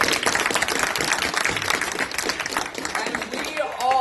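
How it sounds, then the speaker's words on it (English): Crowd clapping at a voter-registration rally, a dense mass of hands with shouts and voices mixed in, fairly close and steady before easing toward the end. "You can clap."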